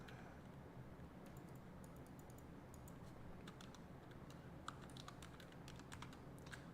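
Faint, scattered taps of typing on a computer keyboard, light clicks coming in short irregular bursts over a steady low background hum, with no talking.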